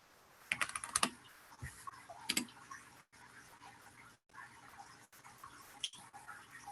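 Python code being typed on a computer keyboard, quiet close clicks and clatters in short irregular bursts with brief pauses, no voices.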